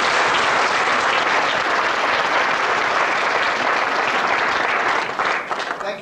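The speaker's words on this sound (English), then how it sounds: "So please, a round of applause." Audience applause at a boys' choir concert, a loud, dense sustained burst of clapping from a full hall that holds steady, then tapers off in the last second.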